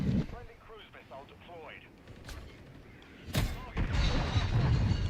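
A cruise missile strike in Call of Duty Modern Warfare III: a voice talks first, then a sudden heavy blast hits and rolls into a sustained, loud rumbling roar.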